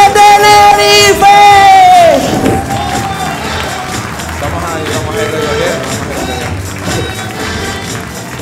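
A comedy show audience in Santa Cruz de Tenerife claps and cheers, a sustained loud wash of applause that carries through the whole stretch, with voices and shouts riding on top early on.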